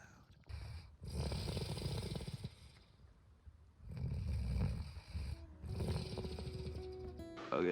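Loud, close snoring from a person asleep in a tent on a cold night, rasping rumbling breaths in long repeated cycles with quiet pauses between them.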